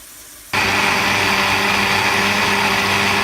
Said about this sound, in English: Next, I placed it off into a blender and we're going to give it a good blend.